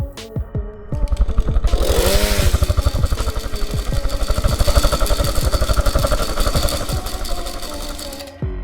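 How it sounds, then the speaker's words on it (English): A video game triceratops growls with a harsh, ratcheting engine-like roar that revs up and runs steadily for several seconds, loud and close, like a chainsaw, with a rapid pulsing rattle. "it just revs up its chainsaw"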